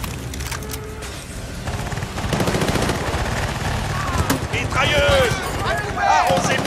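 Battlefield Bad Company 2 combat in Bolivia brings sustained rapid machine gun fire and dense gunfire in a loud continuous battle mix, with shouted voices in French over the shooting.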